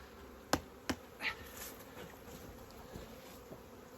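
A quiet, steady buzz of honeybees being shaken from hive frames hums throughout, with a few sharp knocks and taps near the start.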